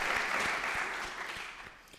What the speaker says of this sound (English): maybe also a bigger applause from your side